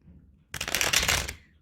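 A short burst of tarot cards being shuffled, a crisp riffling rush lasting under a second, close and fairly loud, with no talking.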